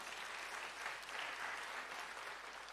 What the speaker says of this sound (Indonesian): Kasih tepuk tangan buat Tuhan ya